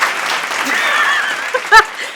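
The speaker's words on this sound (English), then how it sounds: "Give him a round of applause." A round of applause from a gathered crowd congratulating a guest at a promo event for a new line of sauces, dense steady clapping throughout with a brief voice cry near the end.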